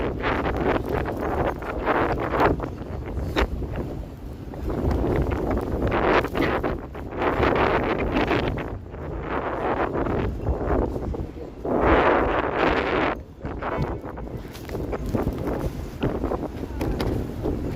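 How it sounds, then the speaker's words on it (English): Strong wind gusts through downtown Toronto during a snowstorm, roaring and buffeting the microphone in surging waves that rise and fall over the whole stretch, loud and close, with faint voices now and then underneath. "Wind is insane right here."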